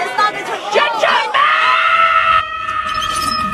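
The landlady in the film Kung Fu Hustle lets out a piercing, sustained scream at close range, loud and unbroken for several seconds after a brief burst of shouting voices.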